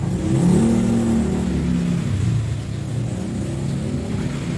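A Uwinfly T3 electric vehicle accelerates on throttle in speed 1, a loud, steady motor whir and drone that rises then holds level, heard close with no talk.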